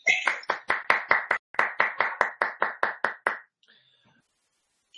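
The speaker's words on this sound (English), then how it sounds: "it's thunderous applause. Thunderous applause." Quick, evenly spaced clapping after an online lecture, about fourteen crisp claps over three and a half seconds, close and fairly loud, then silence.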